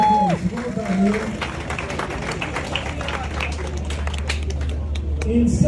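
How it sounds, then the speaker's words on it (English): A crowd claps steadily for several seconds, dense and fairly close, with a voice and low rumble underneath. "A round of applause for Ian Duncan"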